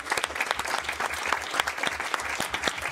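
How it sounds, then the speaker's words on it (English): Crowd applause during a live charity-stream stage event, a continuous patter of many hands with individual claps standing out, moderately distant and without talk. "Round of applause for everyone today."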